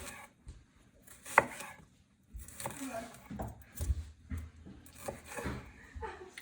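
A knife slices bell peppers into long strips on a cutting board for sausage and peppers, with several close, uneven cutting and board knocks and a person talking.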